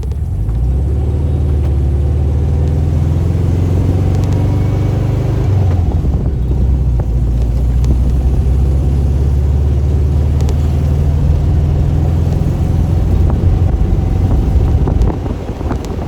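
A car engine pulling away in first gear, a loud, close low drone that rises in pitch, drops briefly at a gear change, then climbs again, with wind noise buffeting the microphone.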